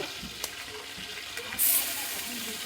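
Green chillies and chopped onion going into hot oil in a large pot, giving a steady close hiss and sizzle with a brief sharp flare of spitting partway through.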